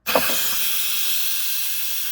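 A sharp burst then a steady, loud hiss of steam venting from an Instant Pot pressure cooker after cooking carrots, continuous and unchanging for a couple of seconds.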